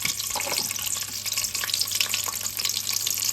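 Black cumin and slit green chilies sizzling in hot oil in a frying pan while being stirred, a continuous close crackle with scraping touches and occasional clinks, no voices.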